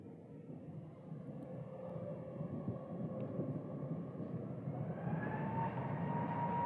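An American Airlines airliner takes off from the Phoenix runway, a distant low rumbling roar building gradually in loudness, with no talk.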